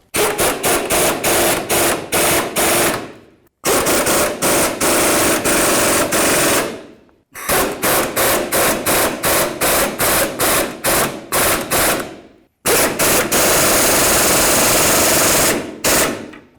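A power impact tool snugs the sway bar link nuts on a Ford F250 in four long bursts of rapid, loud hammering rattles, separated by short silences, very close.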